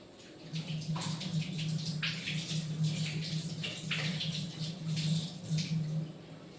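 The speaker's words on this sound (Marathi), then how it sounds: "हात धुवून घेते" Hands being washed under a running kitchen tap, a steady close stream of water with splashing that shifts as the hands move through it, no talk.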